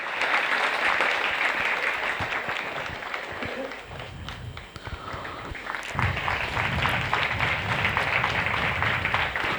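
Sustained applause from an audience at a school scholarship ceremony in Bhanvad, steady and dense across the hall, dipping briefly midway before swelling again.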